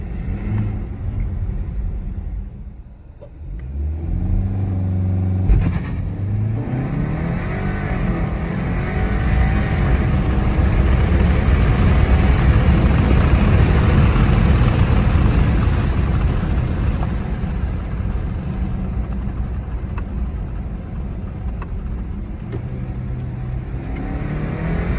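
A 2024 BMW 530i xDrive pulls away and cruises at night, a steady low engine rumble with road and tire noise that swells as it picks up speed, then eases slightly.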